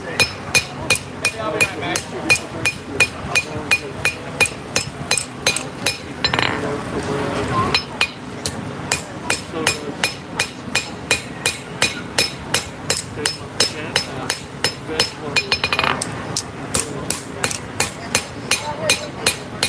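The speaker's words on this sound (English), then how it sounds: "Forging those bevels and that plunge line." Hammer blows forging the bevels and plunge line of a knife blade at a live demonstration at a farmers market, a steady run of sharp ringing strikes repeating about once a second, close and loud, with brief pauses.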